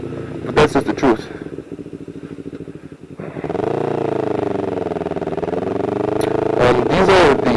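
A 600 Super Sport motorcycle ticks over with a low, uneven putter before settling into a louder, sustained engine drone as it rides, with gusts of wind buffeting near the start and end.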